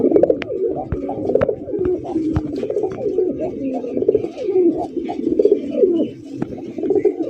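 Native Golla pigeons coo continuously in a dense, overlapping chorus of low, rolling calls close by, with faint talk in the background.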